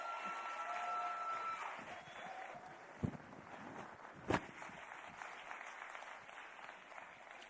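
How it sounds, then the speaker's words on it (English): At a heritage careers expo, an indoor crowd gives a steady round of applause, a dense wash of clapping with a couple of sharp thumps partway through. "Big round of applause"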